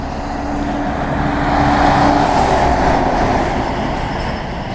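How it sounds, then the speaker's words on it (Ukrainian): Steady roar of street traffic as many cars drive past on a road, a continuous loud rumble that swells and fades slightly in the middle, with no talking. "Зараз ми з вами знаходимося на дорозі, де ми можемо побачити дуже багато різноманітних машин"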